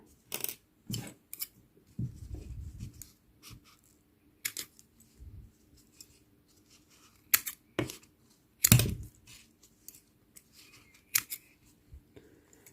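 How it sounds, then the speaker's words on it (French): Scissors snipping several crochet yarn threads while making an amigurumi tiger keychain: a string of sharp, close clicks and snips at irregular intervals, some with fuller thuds and rustling between them. "Maintenant, je coupe tous ces fils."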